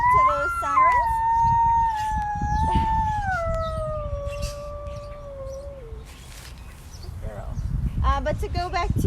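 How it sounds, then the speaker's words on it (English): A zoo-kept female coyote gives a long, wavering howl that slides slowly downward and is followed by a few yips. Faint sirens sound in the distance, and muffled talk runs underneath. "So right now she's doing a howl, and coyotes are known for their vocalizations, and this is one of them."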